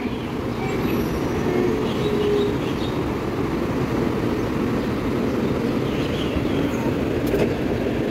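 Inside a Taiwan High Speed Rail train at speed, a loud, steady low rumble and rushing hum continue without a break, with no talk heard.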